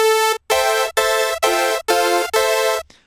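Bright synth lead chords from Harmor with chorus depth turned fully up, six sustained stabs in a steady rhythm with short gaps, loud and alone, the last one fading into a brief tail.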